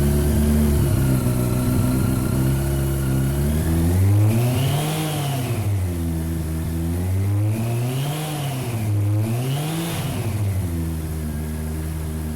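A 1998 Yamaha R1 motorcycle engine idles with a deep rumble, then revs up and down several times in rising and falling swells, close and loud.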